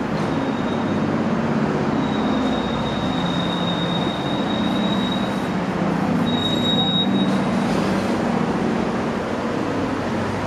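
A Dresden tram running through the city, with a continuous low rumble of wheels on rails and brief high squeals from the wheels, heard close and steady with no talking.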